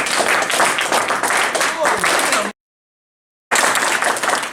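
Audience applause after a speaker is introduced at a Project Triple Jump presentation, a dense wash of clapping that breaks into silence briefly, then resumes just as loud.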